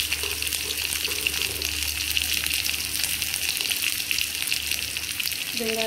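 Onions dropped into hot oil in a home kitchen, frying with a steady, dense hiss that holds evenly throughout, close and fairly loud, with no talk.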